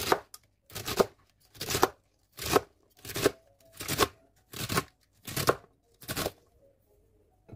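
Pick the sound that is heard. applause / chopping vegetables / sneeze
chopping vegetables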